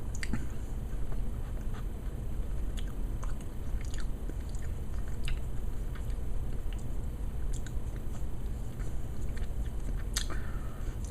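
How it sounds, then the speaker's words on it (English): Someone chewing a cookie up close, with a steady soft crunching and mashing texture that continues through the whole stretch over a low background hum, with occasional small crisp clicks. "Finish eating my cookie while I'm doing this."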